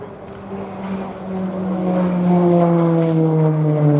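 Tucano display aircraft at an airshow making a low final pass over the runway at about 100 feet, its steady propeller-engine drone rising in pitch and growing louder as it approaches, with no talk.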